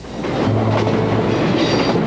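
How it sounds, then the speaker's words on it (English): A passenger train runs along the rails on the north–south line between Hanoi and Saigon in Vietnam, giving a steady, close rumble with soft rhythmic clatter and no voices. "you're exploring the train that goes north from what used to be Hanoi to Saigon"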